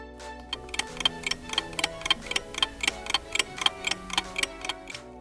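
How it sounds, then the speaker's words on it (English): A steady clock tick-tock, about three even, crisp ticks per second, running alone and clear at a constant level, added as an editing sound effect. "you can add in a clock ticking sound effect to show that you're waiting for something"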